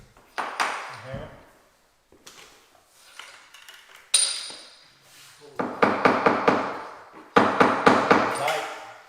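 A hammer taps engineered hardwood flooring during installation, with sharp isolated knocks early on and then quick clustered bursts of ringing strikes, interspersed with quieter pauses and some talk.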